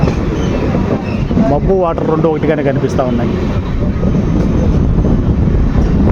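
The Pinakini Express rolls along beside Pulicat lake: a constant loud rumble and rattle of the moving carriage, with a voice talking over the train noise.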